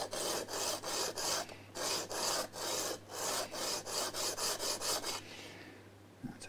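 Steady back-and-forth rasping of a guitar nut on a sanding board, rhythmic strokes repeating closely for several seconds before stopping.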